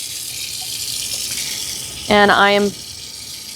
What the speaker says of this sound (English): allowing the water to run and help dilute this as it goes down the sink